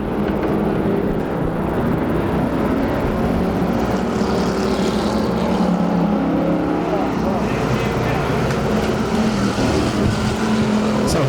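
Bomber-class enduro race cars roar side by side around an Arizona oval in a 120-lap main event, their engines forming a loud, unbroken mechanical drone with voices mixed in underneath.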